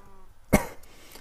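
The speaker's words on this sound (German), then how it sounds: "Boah, Husten." A single sharp cough, close and loud, stands out against a quiet background during a Minecraft let's-play session.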